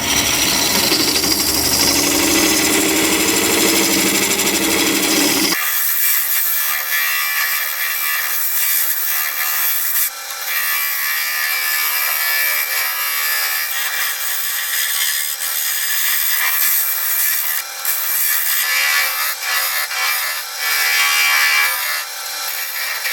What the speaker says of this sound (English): I'm going to get my scraper and just kind of clean this area up.